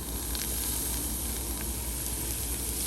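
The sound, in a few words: minced meat frying in a pan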